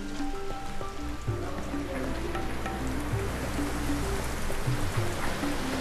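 Rain falls steadily at a race track during an Acura LMP1 test session, a constant hissing patter with faint low tones drifting underneath throughout.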